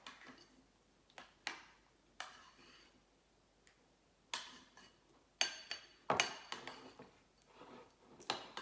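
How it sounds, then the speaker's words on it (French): A spoon stirs fromage blanc with chia seeds in a bowl, giving sparse, irregular clinks and taps against the dish with quiet gaps between them, close and fairly faint. "Je vais tourner, je vais mélanger le tout en fait."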